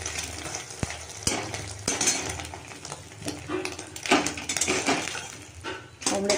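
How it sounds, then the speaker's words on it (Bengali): An egg omelette frying in a home kitchen pan, a soft sizzle broken by sharp clinks and scrapes of a utensil against the pan, with stirring bursts coming and going. "অমলেটটা আমার ভাজা হয়ে গেছে"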